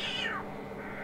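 A cat meows once in Disney's Story Studio: Mulan on PS1, a single falling cry lasting under half a second, followed by quieter game background with no talk.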